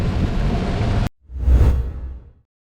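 Heavy rain roars against a moving car in a dense hiss, cuts off abruptly, then swells again in a loud rumbling wash that fades out.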